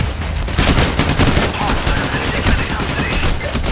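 Dense, continuous gunfire during a street shootout in Payday The Heist, many overlapping rapid shots and bursts forming a loud, sustained barrage with no pause across the whole stretch.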